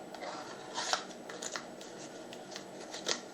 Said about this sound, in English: put in quite a bit of force to bend the cards to do a riffle shuffle